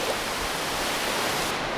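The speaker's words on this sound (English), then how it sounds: "Sounds like there's a waterfall nearby." Steady, loud rushing water from a waterfall in the video game RLCraft roars continuously, a dense, unbroken wash of noise.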